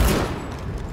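Gunfire in Rainbow Six Siege on the Kanal map, a dense burst of shots at the very start that rolls into a rumbling, sustained low roar, loud and close with no talk.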